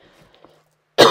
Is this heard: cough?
yes